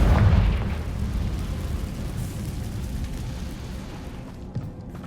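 A Confringo blasting spell in Hogwarts Legacy detonates in a single loud, close boom right at the start, then fades into a long low rumbling decay.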